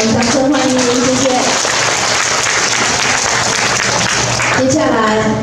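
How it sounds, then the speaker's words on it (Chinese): Sustained audience applause at an election campaign rally at a Yunlin County headquarters, a dense steady wash of clapping throughout, with a host's amplified voice speaking over it at the start and end. "我们的苏宇山议员，议会场掌声欢迎您"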